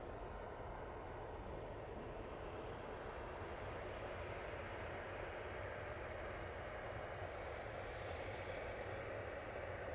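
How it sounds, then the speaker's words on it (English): A Ryanair airliner taxiing at Manchester Airport at sunrise, its engines a steady, broad roar that holds level throughout, with a faint brighter hiss swelling briefly near the end. "Ryanair making its way over towards us"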